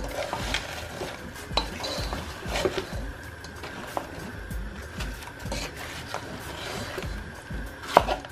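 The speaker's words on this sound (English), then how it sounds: "I'm gonna bung the lamb shank pieces in here as well and give this a really good mix" Lamb shank pieces and onions being stirred in a pot for a curry, irregular scraping and clinks of a utensil against the pot over a faint sizzle, fairly quiet with no talk.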